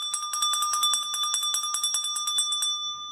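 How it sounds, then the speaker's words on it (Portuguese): A small bell rings in quick, bright repeated strokes with a sustained metallic shimmer, loud and alone for nearly three seconds before trailing off into silence. "quando esse sininho toca, significa que nós estamos na reta final do nosso chá"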